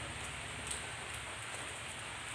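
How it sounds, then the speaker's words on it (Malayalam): Steady, even rain hisses softly throughout, a continuous wash of patter with no voices or other distinct sounds. "നിങ്ങളവിടെ ഉണ്ടോ മഴ? ഞങ്ങളവിടെ അസർ മുതൽ ഇപ്പോൾ വരെ ഉണ്ട്."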